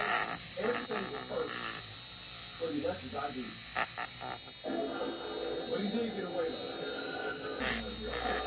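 A rotary tool grinds Tamiya putty, its buzzing motor whine running fairly quietly through most of the stretch while someone talks over it.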